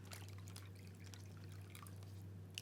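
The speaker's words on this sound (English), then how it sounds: "I'm going to pour my cup of water into my baggie" Water pours from a cup into a plastic baggie at a sink, a soft, steady trickle and dribble running quietly for a couple of seconds before a brief louder bump at the end.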